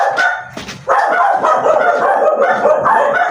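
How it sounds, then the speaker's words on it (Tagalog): Several dogs bark loudly and continuously, their overlapping yaps and whimpers close by and filling the whole stretch. "Kasi lagi dito mga aso."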